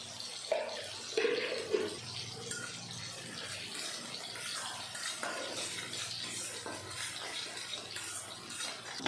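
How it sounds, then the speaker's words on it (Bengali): Spices being stir-fried for a Bengali fish curry with potatoes, with salt, turmeric and a pinch of sugar added. Steady sizzling runs throughout, with scraping and stirring clatter from the pan that comes in bursts. "ভালো মতন মশলা কষানো হয়ে গেল"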